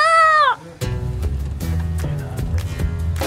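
A cat gives one clear, close meow at the start, followed by a village soundscape of clattering footsteps and other people around.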